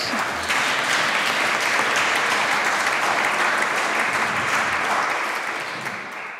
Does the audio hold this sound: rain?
no